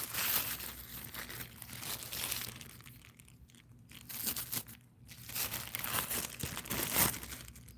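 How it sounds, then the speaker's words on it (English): A bag being taken out and handled, giving close, irregular crinkling and rustling in bursts with brief quieter pauses, no talk over it. "All right, I'm getting the second bag out here."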